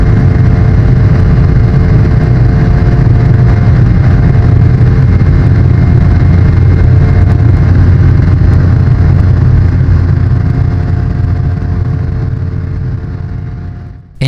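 Boeing 717 engines at takeoff on a Qantas Link flight, a loud, steady low roar and rumble inside the cabin near the engines, continuous throughout before dropping off abruptly at the end.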